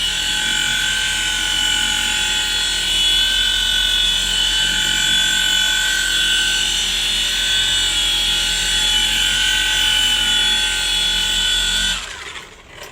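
Paint polishing machine buffing and color-sanding a car's paint finish, a loud steady whirring drone held close for the whole stretch before winding down abruptly near the end.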